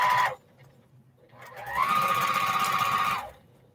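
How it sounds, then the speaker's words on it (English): A Featherweight sewing machine runs in two bursts, a short one and then a longer steady whirring stretch of rapid needle chatter, close and clear with no talking. "I'm taking my featherweight sewing machine"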